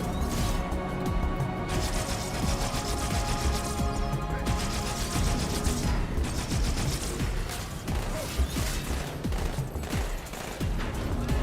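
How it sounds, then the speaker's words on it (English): Dense rapid gunfire and explosive bursts from a Halo 2 match with a thrown grenade, loud and sustained throughout with overlapping shots and a few sharp impacts, while players talk over the action. "Alright, got a nade, I'm gonna chuck."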